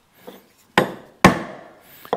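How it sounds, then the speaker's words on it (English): A holdfast is knocked down to clamp a board on a woodworking bench: two or three sharp, close wooden strikes with short ringing decays and quiet gaps between them. No talking. "we'll go ahead and we'll hold this in place with a hold fast"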